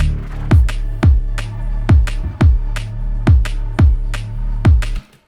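A loud drum and bass loop plays alone: punchy kick hits with sharp downward pitch drops land in a steady rhythm over a sustained, heavy sub-bass line, repeating about every second.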